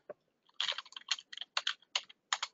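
Computer keyboard being typed on at a desk during a software demonstration: close, crisp keystrokes in quick irregular bursts with short pauses, ending in a few firm taps.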